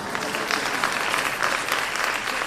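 Audience clapping steadily and fairly close for a couple of seconds, dense and even with no voices breaking through.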